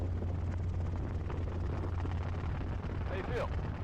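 A small training helicopter's engine and rotor hum steadily and close during a pilot's first solo flight, loud throughout, with speech-like sounds mixed into the drone.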